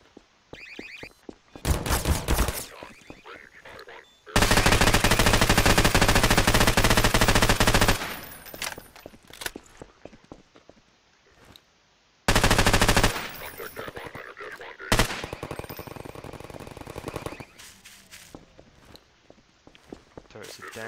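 Bursts of AR-15 rifle fire in Garry's Mod gameplay, loud sustained automatic volleys of several seconds broken by gaps, with footsteps and clatter between and a voice speaking at times.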